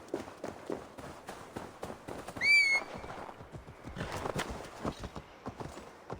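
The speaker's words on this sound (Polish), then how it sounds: "Mamy pięknego konia." A horse in Assassin's Creed Valhalla gallops in a quick run of hoofbeats, and a short whinny cuts in partway through.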